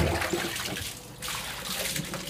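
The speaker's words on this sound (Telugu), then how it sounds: "ఇప్పుడు వాటర్ పోసి కడిగేద్దాం మనం." Water is poured over a dog during a bath, a steady splashing and running-water wash with a brief lull midway, close and moderately loud.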